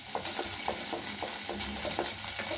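Dried red chillies, onion and curry leaves spluttering in hot coconut oil for a cabbage-and-egg stir-fry, a steady bright crackle with regular soft stirring scrapes every half second or so, close and continuous.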